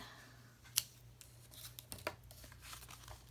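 Scissors trimming card paper: a crisp snip followed by a few quieter cuts and light paper rustles, close and faint.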